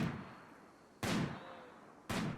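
Gunfire in the colony game Rimworld: three sharp, separate gunshots about a second apart, each with a short fading echo, fairly faint and with no talk.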